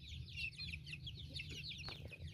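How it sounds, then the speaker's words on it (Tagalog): A young hen clucks in a continuous run of soft, busy calls at close range, with some rustling and low background noise beneath. "Kana siya dumalaga na siya."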